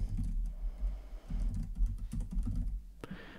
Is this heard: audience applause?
no